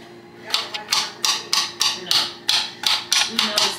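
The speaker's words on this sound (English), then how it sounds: "So I'm about to cut the garlic." A knife chops garlic on a cutting board in a steady series of about ten crisp, evenly spaced knocks, close and clear over a quiet kitchen hum.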